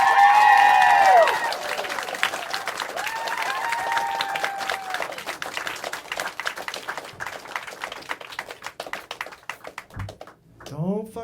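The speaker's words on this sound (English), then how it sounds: "How about a huge round of applause?" A comedy club audience applauds and cheers to welcome a comedian, loud clapping at first that thins into scattered claps, with an announcer's voice over it and the comic beginning to speak near the end.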